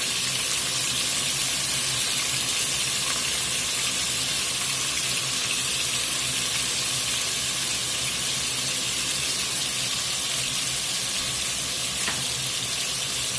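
Beef searing in a pan for birria, half the batch at a time: a loud, dense, continuous sizzle and crackle that holds steady for the whole stretch, close up, with no voices.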